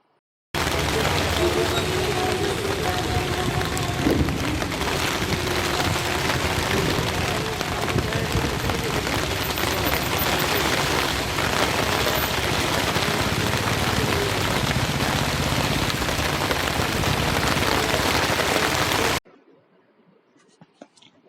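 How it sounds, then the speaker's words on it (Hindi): Steady rain pours down in the afternoon after strong winds, a dense, even hiss of drops on surfaces that holds at one level for nearly twenty seconds before cutting off to near silence. "दोपहर बाद तेज हवाओं के साथ शुरू हुई बारिश से मौसम सुहावना हो गया"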